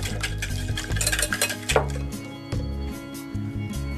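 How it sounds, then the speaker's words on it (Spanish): A utensil scrapes and clinks against a bowl while oat dog biscuit batter with honey, oil and water is mixed, with irregular close knocks and stirring strokes and no talk. "mezclamos bien"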